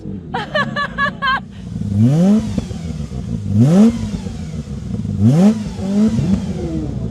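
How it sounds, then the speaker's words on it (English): A Mercedes C111 engine revs up three times, each sweep rising sharply in pitch before falling back to a rumbling idle, loud and near. "So these Bunkel engines are known for having a great sound when you rev."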